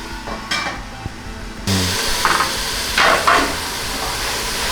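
Leaves frying in a pan for bagara rice, a bright sizzle that jumps up suddenly midway and keeps hissing steadily, with a few scraping stirs and clatters near the start and some louder spatters later.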